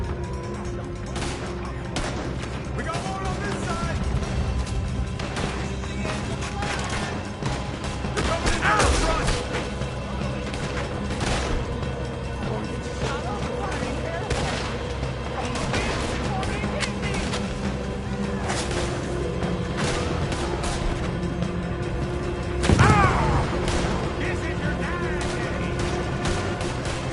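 Gunfire during a shootout in Red Dead Redemption 2, with bursts of shots and crashes over a dense, continuous battle din and voices shouting amid the fighting, one louder blast standing out near the end.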